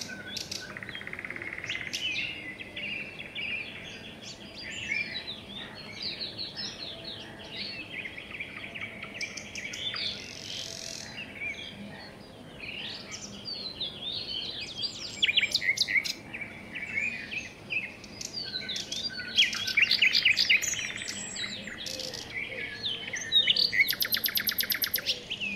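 Many birds sing and chirp in trees, a dense, continuous chorus of high twittering calls at moderate distance over a soft background hum, without any voices.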